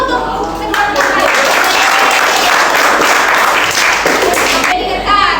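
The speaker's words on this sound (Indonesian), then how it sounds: "Tepuk tangan dulu untuk kedua teman." Junior high school students in a classroom clap for two classmates, a loud sustained burst of many hands with children's voices mixed in, ending after about five seconds.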